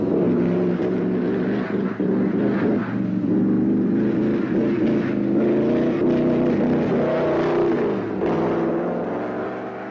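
A Mercedes W125 Silver Arrow racing car lapping the Nürburgring, its engine a loud sustained drone with shifting pitch as it accelerates and eases, close and continuous throughout.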